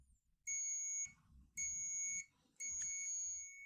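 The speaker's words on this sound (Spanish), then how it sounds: "ella nos hará un pitido, como pudieron escuchar" Three high electronic beeps, each about half a second long, sound from a clamp meter's continuity test at close range against a quiet background.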